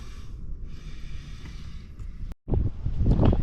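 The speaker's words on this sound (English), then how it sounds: "I think the wind's getting worse." Strong wind outdoors on an open road in remote country: steady, rumbling gusts buffet the microphone for a few seconds, broken by one brief dropout before the roar builds again.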